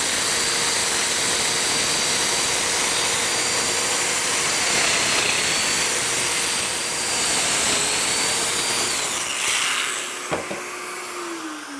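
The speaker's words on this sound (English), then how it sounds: "Great machine, this Festool domino." A Festool Domino joiner runs steadily with a loud, high whining motor drone while cutting medium width mortises, the pitch shifting slightly before it winds down near the end.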